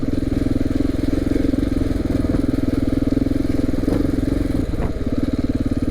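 KTM 690 single-cylinder motorcycle chugging along in first gear on a rough dirt road, a steady low-pitched thumping pulse that continues throughout with only slight shifts in load.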